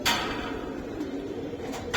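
Indian high-flyer pigeons cooing at a pigeon sale, soft low coos with a couple of sharp knocks at the start and near the end, fairly quiet and without talk.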